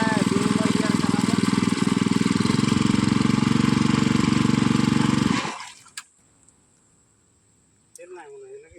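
A power tiller engine in a rice field roars loudly and steadily at close range, then suddenly sputters out and stops, leaving near silence with a sharp clank and someone speaking afterward.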